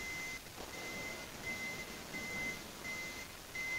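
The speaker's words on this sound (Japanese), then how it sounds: "このピーって音がブザー音 A となっておりまして" A thin, high electronic beep from the second-row sliding door warning buzzer of a Toyota Alphard AGH30 repeats in short pulses at a steady rhythm over a quiet background hum.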